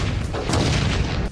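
A hand grenade detonates during a blast-radius test, heard from an observation room as one loud, sustained, rumbling boom with no talking.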